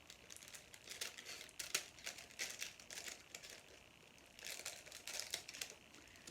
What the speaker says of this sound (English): cut off the excess with my scissors